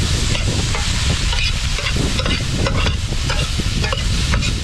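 Lots of onions sauté in a pan for a seafood curry, a loud, dense, close sizzle with steady stirring scrapes and no voices.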